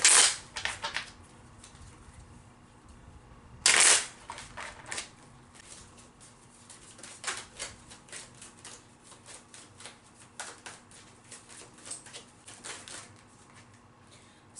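Tarot cards shuffled by hand, a run of sharp riffling bursts and soft flutters, loud snaps near the start and again a few seconds in, then lighter uneven shuffling throughout with no talking.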